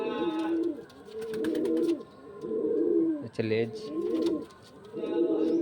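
Pigeon, a young single bird of loft stock, coos in repeated rounded bursts, close and steady, roughly every second or so, while someone speaks briefly over them.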